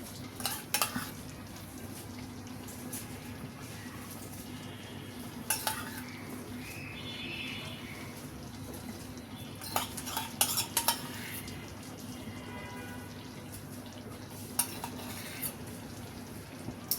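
A pot of dal makhani with fresh cream bubbles on a low flame while a spoon stirs it, giving a soft continuous simmer broken by occasional scraping clinks against the pot, with no talking.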